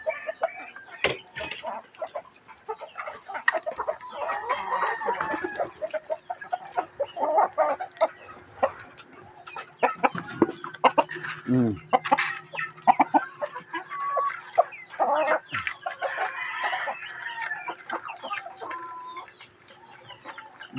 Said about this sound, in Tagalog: Bali 8 guys na pirasong sisiw ang napakawalan ko ngayon.